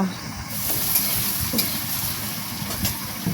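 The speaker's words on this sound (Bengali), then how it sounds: "বাদাম ভাজা হয়ে গেলে এবারে একে একে সমস্ত কাঁচা সবজি ভেজে নেব।" Raw vegetables frying in oil in a pan for vegetarian khichuri, giving a steady crackling sizzle with scraping stirs and a few louder clatters, close and continuous throughout.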